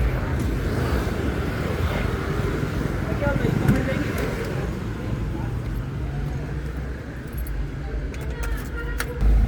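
A loaded goods vehicle on its trip, with a steady low engine rumble and road noise running throughout, close and continuous, with some light rattling and clinks on top and a brief rise at the very end.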